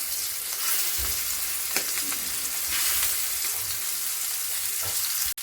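Prawns frying in oil on a griddle tawa, a dense, steady close-up sizzle that hisses continuously, with faint clicks and a brief utensil tap near the end.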